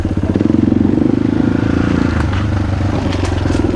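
A Kayo T2 Chinese dirt bike engine runs loud and close throughout, a steady buzzing drone with rattling clatter as it is ridden off-road among trees.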